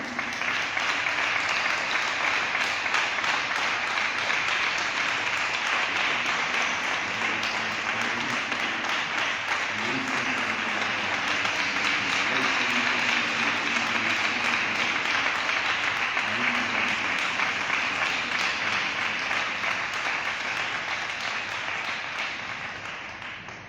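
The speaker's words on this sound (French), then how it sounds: "Alors nous pouvons applaudir très fort Dieu." Sustained loud applause from a congregation at a Catholic Magnificat Fraternity gathering in Benin, dense steady clapping filling the space for over twenty seconds before tapering slightly at the end.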